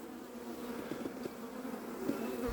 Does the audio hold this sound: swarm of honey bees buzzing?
yes